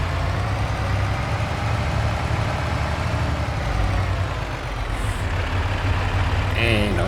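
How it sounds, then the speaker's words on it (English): The heavy truck with the larger engine in Farming Simulator 22 idles in a steady, loud low rumble throughout, with a brief hiss near the end. "this truck has the bigger engine of the two"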